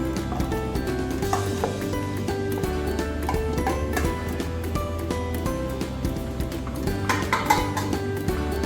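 Pasta and vegetables are stirred in a pan, with a steady background sizzle and scattered light clinks and scrapes of a utensil against the pan, close and continuous.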